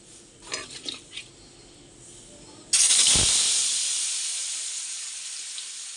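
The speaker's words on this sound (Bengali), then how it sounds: "তো চলো আগে আলুটা ভেজে নিই" Potatoes dropped into hot oil in a home kitchen, starting with a few light utensil clinks, then a sudden loud burst of sizzling that holds steady and slowly eases as the frying settles.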